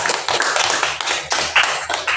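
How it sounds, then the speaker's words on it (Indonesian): Brief scattered applause from students in a classroom, a few sharp hand claps and taps rising and fading over about two seconds. "Kasih tepuk tangan untuk kelompok 2"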